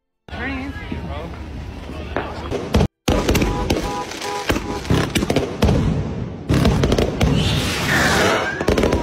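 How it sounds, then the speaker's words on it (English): Fireworks burst in a rapid run of loud bangs, pops and crackles, mixed with voices and shouting throughout. "Fireworks need to be taken off the market."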